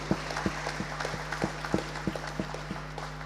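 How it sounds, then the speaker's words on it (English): An audience at a business ideas forum in a market hall gives a round of applause: a thin smattering of separate claps, several people, with a few sharper individual claps standing out over a steady low hum. "please give him another big round of applause"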